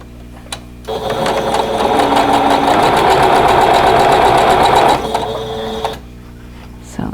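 A sewing machine stitches white quilt block squares together in a steady, loud mechanical run lasting about four seconds, with quieter motor hum before and after and no talking.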